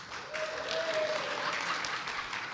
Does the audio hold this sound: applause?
yes